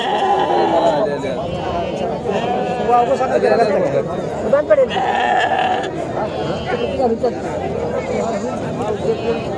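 Sheep and goats bleat repeatedly among a busy crowd at a livestock market in Sangola, the calls mixed into constant chatter and nearby voices discussing prices.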